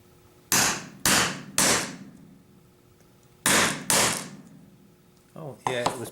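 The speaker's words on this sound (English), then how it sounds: "give it a tap with the hammer" Five sharp metallic hammer strikes on a 1-inch metal punch, in two groups with pauses between, each ringing briefly; faint clatter follows at the end.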